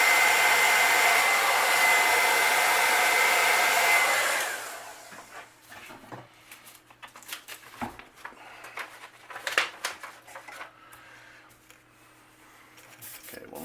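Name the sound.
hair dryer drying paint coat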